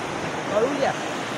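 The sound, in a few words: strong rushing water flow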